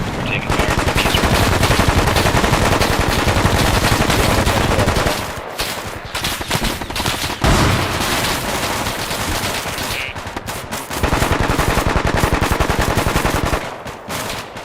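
Loud automatic gunfire from the tactical shooter game Bellum rattles in long sustained bursts. The bursts break off briefly and then resume, dense and close throughout.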